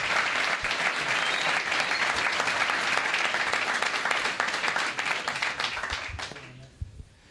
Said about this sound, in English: Can we have a huge round of applause for Governor Lee?